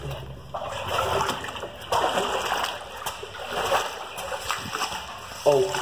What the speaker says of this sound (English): Look at how freaking deep this water is.